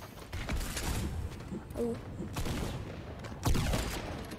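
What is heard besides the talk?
gunfire shooting in a video game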